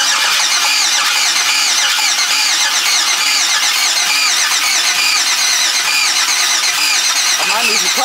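An Oldsmobile Cutlass engine cranking and catching after a starter replacement, a loud, steady, rough running roar close by that stays on throughout, with voices over it.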